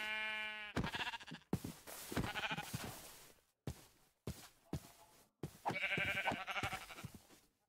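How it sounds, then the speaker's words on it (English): Sheep in the Minecraft video game bleat several times in short, clear, moderately loud cries separated by brief pauses, with game sounds in between and no talking. "Sheep."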